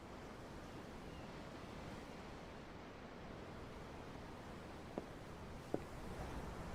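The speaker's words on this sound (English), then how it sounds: "The waves. They help me think." Steady ocean surf washing against a boat at sea in the video game Tales of Arise, a continuous broadband roar with no distinct breaks and two faint brief clicks near the end.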